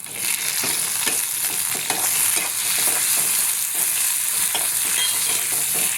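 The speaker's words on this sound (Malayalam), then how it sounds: "ഇനി നല്ലോണം നമുക്കിത് വഴറ്റിയെടുക്കാം." Onions and tomato sauté in a hot pan for a Kerala-style curry, giving a continuous loud sizzle broken by frequent scraping stirs, with no talking.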